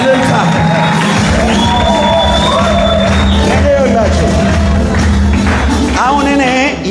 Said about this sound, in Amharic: ለጌታ እልልታ